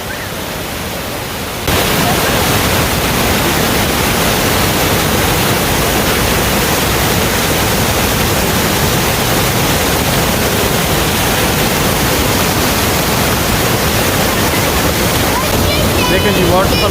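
A powerful waterfall in Switzerland roars as a steady, dense wall of rushing water, loud and unbroken after a quieter opening moment.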